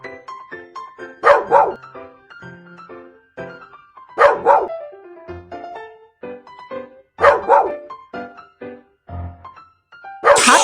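A cartoon puppy barks in three loud, evenly spaced bursts, each a short cluster of yips, over light background music in a children's animated show.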